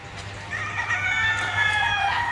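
Chickens at a hot poultry farm with an open range area, with clucking and a rooster's crow rising over a steady low background hum, fairly close and continuous.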